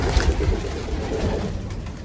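Pigeons coo softly in a loft housing young birds, low throaty calls repeating close by against a steady background hum.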